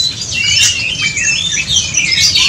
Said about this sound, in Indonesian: murai lawan kacer dada hitam.